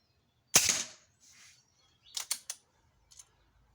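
A British Gunpower Storm air rifle fires one sharp, close shot, followed by a fainter click from the far end and a few light mechanical clicks in otherwise quiet surroundings.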